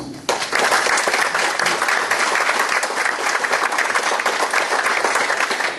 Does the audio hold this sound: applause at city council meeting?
yes